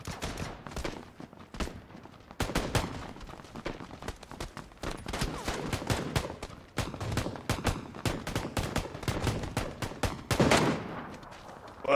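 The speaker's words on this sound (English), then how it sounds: "Some shots going on" Rapid video game gunfire, with loud single shots and clustered bursts cracking throughout and almost no pauses.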